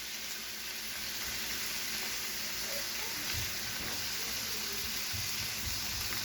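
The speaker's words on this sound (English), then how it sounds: "You can hear that sizzle?" Steady broadband sizzling of food frying on a Steelmade USA flat top griddle, continuous and fairly close, with a few soft low thumps underneath.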